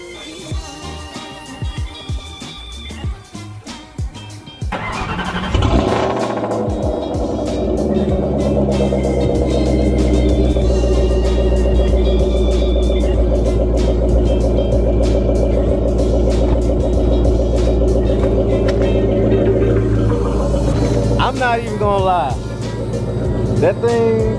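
A car engine cranks and settles into a loud, steady idle, its deep rumble lasting for roughly twenty seconds with a noticeably loud exhaust tone, while a person talks over it.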